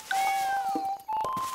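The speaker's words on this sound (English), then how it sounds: "So let's have a look at the little cat." A small cartoon cat, a scared little one hiding in a bush, gives a clear drawn-out meow that rises and wavers, then a second shorter meow, close and alone with no talking.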